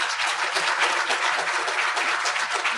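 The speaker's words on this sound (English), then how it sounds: "So could we give them a round of applause?" An audience applauds three speakers at an event on women of the LAPD, producing dense, even clapping that fills the room without pause from start to finish.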